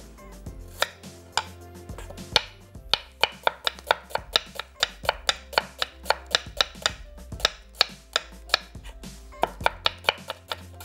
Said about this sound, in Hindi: वही टाइमिंग हमारी प्याज के कटने की है